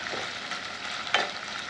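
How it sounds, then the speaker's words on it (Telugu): Ginger garlic paste fries in a pan for a dry fish curry, a steady soft sizzle with one brief brighter scrape of the spoon near the end. "ఇది కూడా పచ్చివాసన పోయే వరకు మంచిగా ఫ్రై చేసుకోండి."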